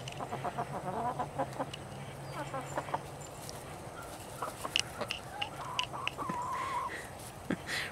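Chickens clucking in a backyard coop in winter, with soft, repeated clucks and calls close by, alongside a person talking and some scuffing movement.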